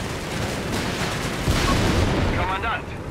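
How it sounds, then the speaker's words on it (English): Infantry gunfire rattles through a Company of Heroes 3 battle with dense, overlapping bursts of shots and booms, steady and moderately loud beneath a commentator's voice. "Enemy infantry firing"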